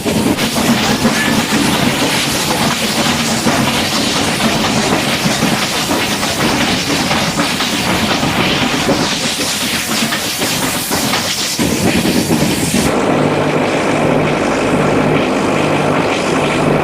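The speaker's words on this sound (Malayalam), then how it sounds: "നമ്മൾ ആ എഞ്ചിൻ്റെ തൊട്ട് പുറത്തെ ജനറൽ കമ്പാർട്ട്മെൻ്റ് ആയതുകൊണ്ട് തന്നെ ഭയങ്കര സൗണ്ടാട്ടോ" Loud, constant roar of a train engine on the Mettupalayam to Ooty line, heard from the general compartment right behind it, a dense rumbling drone that shifts to a lower steady hum near the end.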